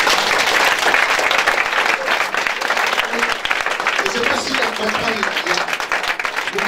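A church congregation loudly applauding during a prophetic worship service, sustained dense clapping with cheers and a few voices calling out over it, steady and close throughout.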